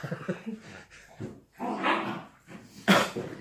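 Playful dogs barking and yipping in uneven bursts, one louder sharp bark near the end.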